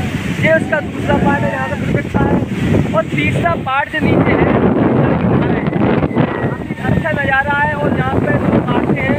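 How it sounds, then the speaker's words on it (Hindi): Strong wind buffets the microphone at a dam on Harsi, a steady blustery roar running throughout beneath someone talking close by. "काफ़ी तेज़ हवा चल रही है।"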